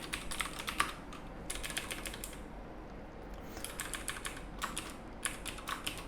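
Quick bursts of typing on a computer keyboard while historical income statement figures are entered, with clustered key clicks separated by short pauses, close and clear with no talking.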